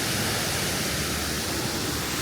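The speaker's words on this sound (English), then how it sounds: "There's like some waterfalls back here." Waterfalls at Adventure Isle in Disneyland Paris pour in a steady, broad rushing hiss, close and constant throughout.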